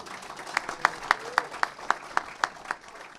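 Audience applause at the Clackamas County State of the County 2018 gathering: about ten crisp, evenly spaced claps ring out over quiet room tone.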